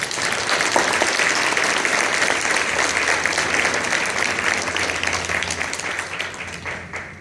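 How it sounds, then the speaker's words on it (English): Audience applause fills a town hall meeting for school staff, a steady, dense wash of clapping that holds strong throughout and tapers slightly at the end. "Let's give them a round of applause"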